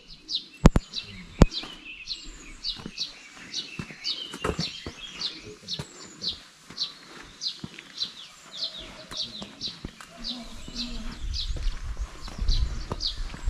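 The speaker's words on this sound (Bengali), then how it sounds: "নিশ্চয়ই এখনো তোমরা শুনতে পাচ্ছ পাখির ডাক।" Birds in a flower garden in West Sikkim repeat quick, bright chirps in a steady series, joined by knocks and rustling nearby.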